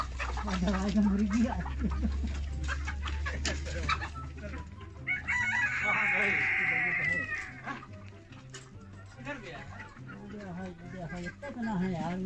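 Chickens being chased and caught at a poultry and livestock market in Najran, Saudi Arabia, with a rooster crowing loudly and hens clucking and squawking nearby, while people talk over the commotion.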